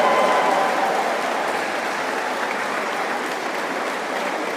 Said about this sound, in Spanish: Un aplauso, Pepe.